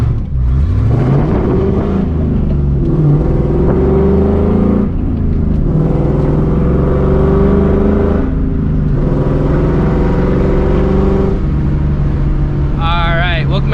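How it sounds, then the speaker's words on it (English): A New Edge Mustang GT with 4.10 gears revving and accelerating hard, the engine note climbing through each gear and dropping at the shifts, loud and close from inside the car. "what it's like driving with 410 gears in a new Edge Mustang GT"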